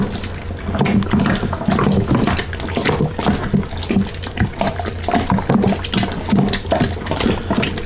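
Corn is stirred in hot water in a pot for a pumpkin bourbon mash, giving continuous sloshing, swirling water sounds close by with a steady rhythm of churning strokes.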